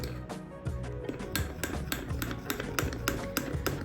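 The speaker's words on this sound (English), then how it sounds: "let's just mix this. They have told to mix for 1 minute" A spoon stirs Betty Crocker mug cake batter in a mug, clinking against the sides in quick, repeated taps at close range with no talking.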